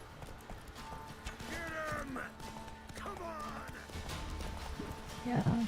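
Roach the horse galloping in The Witcher 3, a steady run of hoof clip-clops with a whinny near the end, under game music and background sounds.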